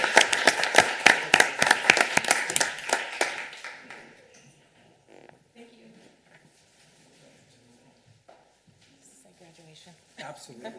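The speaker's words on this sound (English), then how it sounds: "So if we could have a round of applause for Allison and her effort." Audience at a school district governing board meeting applauding, a brisk round of many claps for about four seconds that fades out, followed by quieter talking and small room noises.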